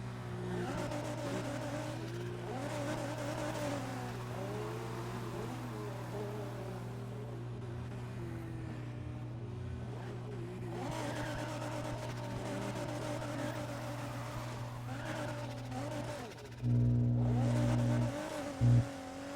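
McLaren race car in a Need for Speed game on an oval stunt track, a steady engine drone with revving shifts and a sudden loud burst near the end, no talking.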